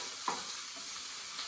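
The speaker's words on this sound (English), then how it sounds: "I'm going to add my sweet onion to get a little bit of caramelization" Sweet onion frying in a little oil in a pan makes a quiet, continuous sizzle with a short scrape of stirring near the start; no one speaks.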